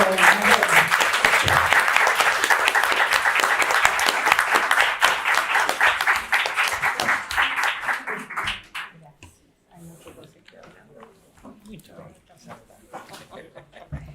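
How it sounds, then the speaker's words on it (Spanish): An audience at a closing panel on oral history in Latin America bursts into loud applause mixed with chuckles and scattered voices, the clapping fading after about eight seconds into quieter murmuring and a few stray claps. "Así que nada, un aplauso."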